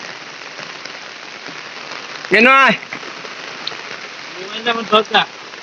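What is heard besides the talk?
rain falling on surfaces around a cattle shed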